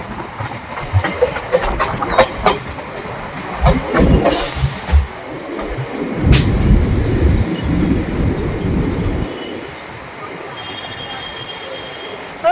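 Local train pulling out of Rishra station, with clattering and knocking of cars, bursts of squealing wheels, and a rising rumble of movement that settles into a lower, steadier roll.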